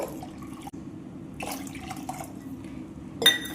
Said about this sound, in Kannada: ಈಗ ಇಲ್ಲಿ ನಾವು ಮತ್ತೆ ನೀರು ಹಾಕೋಬೇಕು